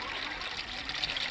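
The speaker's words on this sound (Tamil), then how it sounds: "தம்பி ஒரு கூட தண்ணி விடுப்பா." Water poured from a pot makes a steady, fairly close trickling splash that runs without a break through the short moment, under a busy, noisy background.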